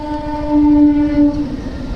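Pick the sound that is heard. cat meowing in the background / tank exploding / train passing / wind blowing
train passing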